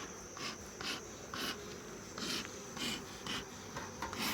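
Honeybees hum and buzz around an open nuc hive near dusk, a steady insect drone with louder swells every half second or so as bees pass close by the microphone.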